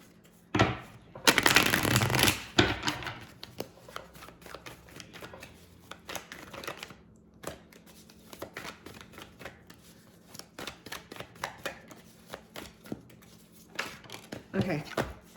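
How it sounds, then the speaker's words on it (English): A deck of reading cards is shuffled by hand, starting with a loud burst of riffling and then continuing as scattered soft flicks and taps, close by, alongside a speaking voice. "I need to keep shuffling these though because I can't."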